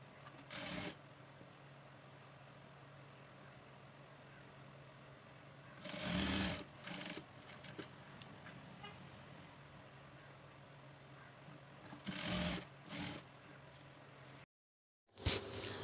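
Sewing machine stitching the side seams of a child's kurta, with several short bursts of motor whirring and needle clatter separated by quiet pauses, fairly faint and with no voices.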